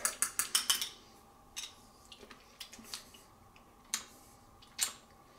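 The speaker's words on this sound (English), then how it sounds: "So we will whisk that up." A whisk clatters against a bowl while olive oil vinaigrette is mixed: a fast cluster of sharp metallic clicks, then scattered, fainter taps at a close distance, with no talking.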